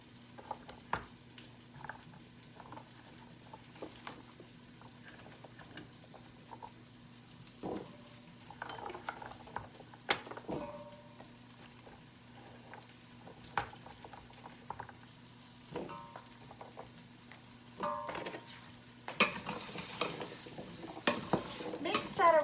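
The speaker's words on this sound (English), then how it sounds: "So now you want to add all your squash to your pot." Butternut squash goes into a pot of softened onions and gets stirred, with soft scraping and knocks of a spoon against the pot over a quiet sizzle and a faint steady hum, a louder burst of activity near the end.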